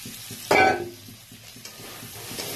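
Boiled, fried potatoes drop into spiced oil for aloo dum with a sharp burst of sizzle, followed by softer scraping and stirring and a quieter simmering crackle.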